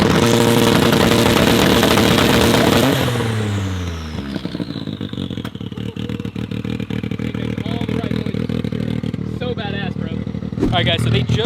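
A 500 hp turbocharged three-cylinder Can-Am side-by-side revs hard, then drops off with a descending whine into a rough, crackling idle before another blip near the end, loud and close.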